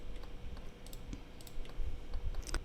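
Mouse clicks while selecting edges in Blender 3D on a computer, a quiet series of sharp, irregular clicks over faint room noise, with no speech.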